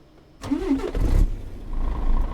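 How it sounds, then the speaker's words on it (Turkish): A Mercedes-Benz Axor truck engine in Euro Truck Simulator cranks and catches at once, then settles into a steady low idle with a rough mechanical rumble, close and fairly loud. "Motorun sesi de efsane ya."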